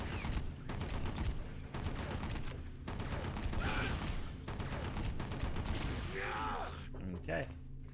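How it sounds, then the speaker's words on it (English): Dense, loud gunfire bursts in the PS2 game Red Faction, with rapid repeated shots and mechanical clatter filling the stretch almost without pause. "So you can just dump some ammo into him."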